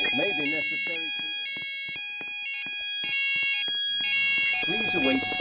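A fire alarm in an Asda supermarket repeats a steady electronic tone pattern with a recorded voice announcement, loud and continuous across the store, with shoppers' voices and store noise underneath.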